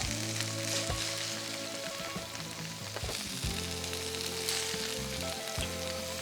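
Burgers sizzle and fry on the grate of an Oklahoma Joe smoker grill, a steady crackling hiss close up with scattered pops, faint clunks and tonal hum underneath.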